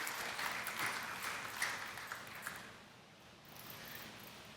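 A church congregation claps together in steady, dense applause, heard faint and somewhat distant, with a brief swell early on before it gradually thins.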